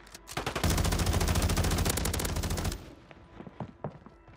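Rapid automatic gunfire from the Razorback weapon in a multiplayer shooter video game: a dense, loud burst of shots lasting about two seconds, then a handful of scattered, quieter single shots.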